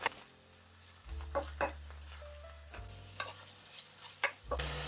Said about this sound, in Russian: На ту же сковородку сразу же отправляю обжариваться лук до легкого